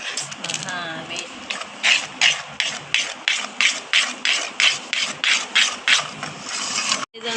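Cake batter being mixed in a bowl, heard as a steady series of rhythmic scraping strokes, roughly two per second, close and fairly loud, with a voice faintly at the start and an abrupt knock near the end.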